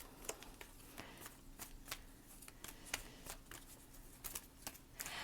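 Fortune reading cards are shuffled in soft, quick riffles and flicks close by, quiet and steady with small pauses, and no talk over them.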